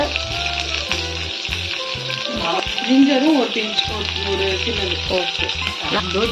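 Three medium-sized onions frying for shahi paneer, a close, busy sizzle with stirring, heard over a steady tonal background sound throughout.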